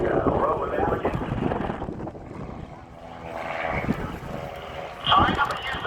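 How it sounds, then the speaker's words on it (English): A propeller aerobatic airplane flies basic maneuvers at the Dayton Air Show, its engine droning and swelling as it passes, loud at times and fading between, with a voice talking over it. "These are really basic maneuvers that most aerobatic airplanes can do."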